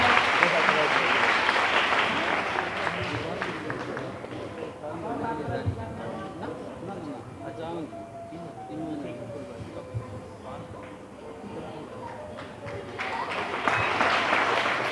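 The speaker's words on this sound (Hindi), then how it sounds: "जोरदार तालियों से बच्ची का स्वागत करें।" An audience at a village school event claps to welcome a girl honored for her exam marks, steady applause loud at the start, easing under a voice in the middle and swelling again at the end.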